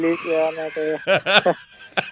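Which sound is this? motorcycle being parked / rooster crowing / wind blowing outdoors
rooster crowing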